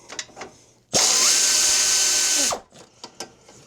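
A power driver whirs for about a second and a half, backing a bolt out of the starter on a Toro 821 snow blower, with brief clicks and handling clatter before and after.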